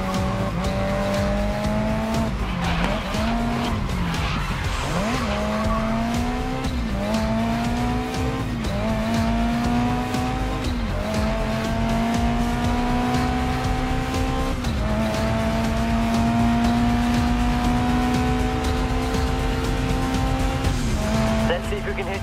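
Race car in the GRID Legends video game sliding through a corner under handbrake, its engine droning steadily with pitch rising and falling across shifts, tire squeal laced through, continuous and loud with some talk over it.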